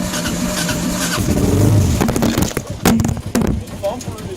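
A Kawasaki KLR 650 motorcycle under restoration cranks and catches, its engine rumbling unevenly and then firing in sharp bursts. A person speaks briefly over it.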